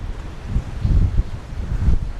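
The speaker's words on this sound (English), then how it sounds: "Oh, wind's kicking up." Strong gusting wind buffets the microphone on an exposed coastal mound during a hike beside rough seas, a steady low roar swelling in waves with no talk.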